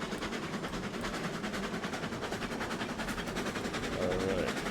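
Steady rumbling and clattering of a small train running in the video game RailRoads Online, a continuous mechanical chugging texture with no breaks, fairly loud and close, heard on its own without talk.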